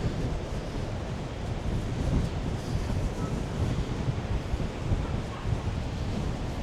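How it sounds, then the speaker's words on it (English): A strong morning wind blows by a choppy sea, buffeting the microphone with continuous loud rumbling gusts and no voices. "Oh my, it's very windy this morning."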